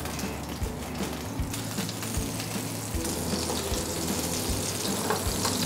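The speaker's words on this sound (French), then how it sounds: "Donc toujours dans notre poêle chaude, on va mettre nos escalopes." Escalopes frying in a hot pan, a loud, dense and steady sizzle running throughout, with a few low knocks and clicks of the pan beneath it.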